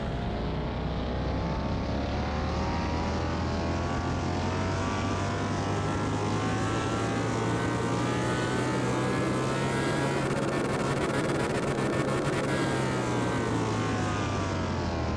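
Low, steady engine rumble from a Jaguar XJS under restoration, a continuous droning hum with a whirring tone layered on top, holding level throughout.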